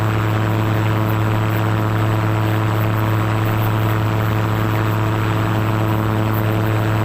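A propeller airplane drones steadily in flight low over water, a constant engine hum with a strong low tone holding throughout, close and loud with no talking.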